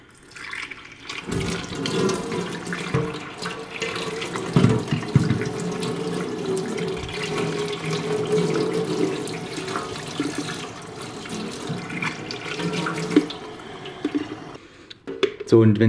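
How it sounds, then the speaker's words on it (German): Water runs and splashes steadily as a removed brew group from a De'Longhi ECAM coffee machine is rinsed under a tap, a continuous close rushing sound that stops near the end. "Und jetzt spüle ich das einfach mal aus mit Wasser."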